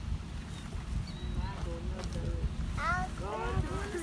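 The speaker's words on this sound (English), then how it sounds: "The wind blowing." Wind blows outdoors with a low, rumbling gust noise against the microphone, steady throughout. Faint voices and chatter sit underneath it.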